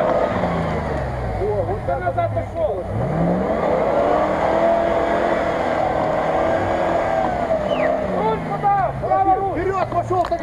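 An off-road vehicle's engine runs and revs as it reverses during a diagonal-articulation exercise on rough terrain. The engine drones steadily, fairly close, while people talk over it.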